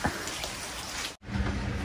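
Steady rain falling outside a house, a dense continuous patter close by with a brief drop-out midway, no talking.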